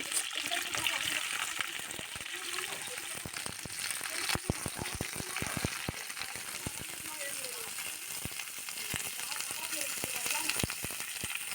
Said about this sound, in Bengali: কড়াইয়ের মধ্যে সাদা তেল দিয়ে দিলাম পরিমাণ মতো দিয়ে তেলটা ভালো করে গরম করে নিয়ে সবজিগুলোকে ভেজে নেব প্রথমে ফুলকপি দিয়ে দিলাম